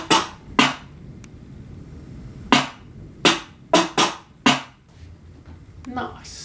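Snare hits in a dark trap beat, extra complementary snares mixed with the main snare, crack alone in a bouncy, uneven pattern of about seven loud hits over a low rumble.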